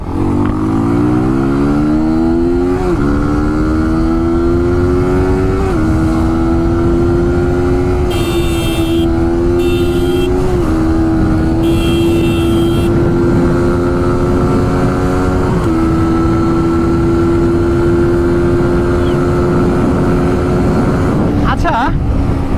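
A 150cc motorcycle engine revs and accelerates through several rising gear pulls, loud and close, then settles into a sustained drone for much of the run.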